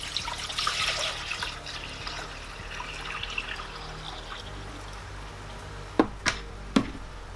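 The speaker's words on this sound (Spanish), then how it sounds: "añadimos los 2 litros de agua en la cazuela" Two litres of water are poured into a cooking pot, making a steady splashing trickle that fades away, followed by a few sharp knocks near the end.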